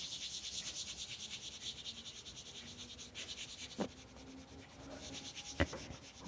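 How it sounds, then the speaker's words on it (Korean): A small piece of tissue paper rubs over a pencil drawing in soft, rhythmic strokes, faint and close, with a few light taps and no voices. "여러분들도 집에서 그냥 휴지, 뭐 예를 들면 그냥 이런 휴지 그냥 아무거나 가져오셔서 이렇게 문질러도 돼요."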